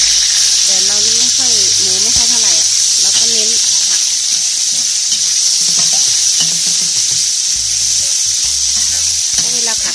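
Minced pork sizzles steadily in a hot pan for a Thai stir-fried cabbage and glass noodle dish, a constant loud hiss under a voice and occasional stirring clatter.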